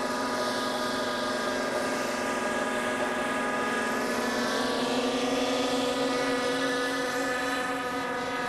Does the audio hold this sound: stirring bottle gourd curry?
no